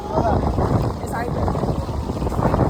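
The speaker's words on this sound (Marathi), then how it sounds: "साईडला थंडी आणि वारा किती वाढलाय बघा" Loud, blustery, cold mountain wind at Badrinath buffeting the microphone in a constant roar, with a voice faintly under it.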